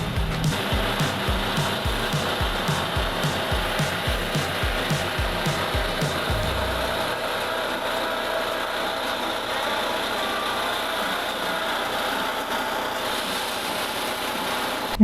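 A coffee bean grading machine drones steadily with a rapid low mechanical thumping for the first half, then settles into a continuous whirring hum.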